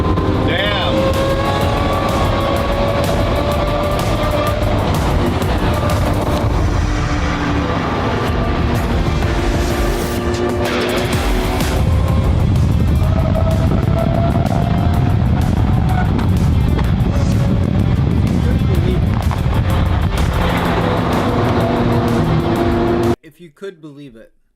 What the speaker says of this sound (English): they even sound better than the SVJs that you're hearing